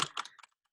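A brief run of a few quick keystrokes on a computer keyboard, close and crisp, tapering off into silence within half a second.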